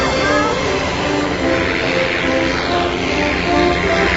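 A light plane touches down at Bankstown Airport in Sydney at the end of a solo flight, its engine and propeller droning steadily and loudly, close by and constant, with no voices over it.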